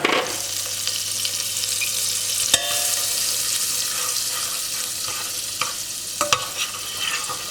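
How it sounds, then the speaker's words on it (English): Butter melting in a pan for a béchamel sauce, a soft continuous sizzle broken by a few sharp clicks and taps of a utensil against the pan. "first thing first, we have to melt our butter"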